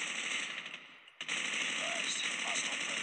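Sustained automatic machine gun fire in Call of Duty Mobile, a dense, continuous rattle that breaks off briefly and then resumes, loud and close throughout.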